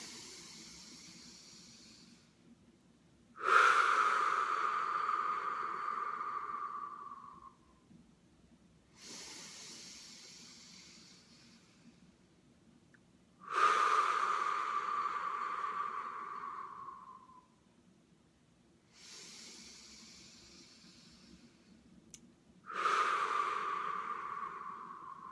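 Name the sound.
group breathing in through the nose, out through the mouth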